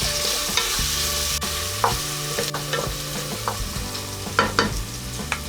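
Crushed ginger and garlic sautéing in a pan for kansi, a continuous close sizzle broken by repeated scraping stirs from a utensil, with no voices.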